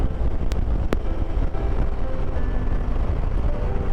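Wind buffets the microphone during a road trip along Portugal's N221 and N222 on a 43°C day, a constant loud rushing roar with low vehicle rumble underneath and a couple of sharp clicks.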